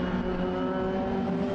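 Formula Ford race cars at the Nürburgring, a steady droning engine note held for a moment at moderate distance, no voices.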